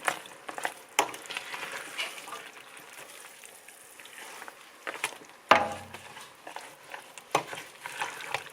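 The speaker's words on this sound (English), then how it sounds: "try to toss them around a little to get them to start to cook down" Italian green beans are tossed in a hot pan, with a soft continuous sizzle broken by sharp clatters and scrapes as they are stirred, including one louder jolt midway, no voices.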